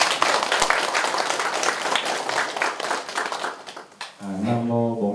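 Clapping from the assembly at a Buddhist temple gathering, dense and lively at first, then thinning and fading before a sustained tonal chant or sung voice takes over at the end.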